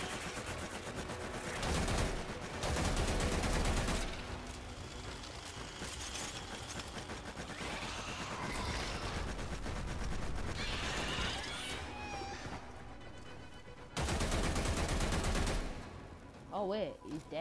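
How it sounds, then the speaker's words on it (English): Rapid bursts of automatic weapon fire in the sci-fi shooter game Warframe come in loud repeated volleys with short gaps between them, mixed with game effects and occasional voice. "Keep shooting."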